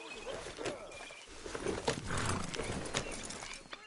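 Horse hooves clip-clop steadily on a hard surface, with ambient game sounds and faint rustling around them; no speech.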